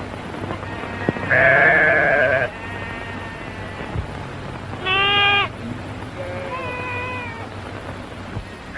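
Sheep bleat in a 1936 western film, with three separate wavering cries: a long loud one early, then two shorter ones a few seconds apart over a faint background hum.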